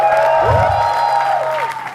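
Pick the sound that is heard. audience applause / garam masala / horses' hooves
audience applause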